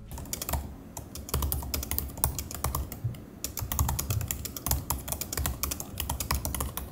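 Rapid clicking of keys on an M2 MacBook Air keyboard, close and crisp, in uneven bursts with a brief pause midway.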